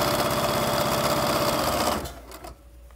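A sewing machine stitches a pillowcase seam with a fast, steady mechanical whir for about two seconds, then stops abruptly, leaving a few light handling clicks and near silence.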